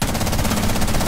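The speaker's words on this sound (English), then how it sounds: "Oh, I shot the C4." Gunfire in Rainbow Six Siege, fired at a C4 explosive, comes as a loud, rapid rattling burst of shots, close and continuous through its brief length.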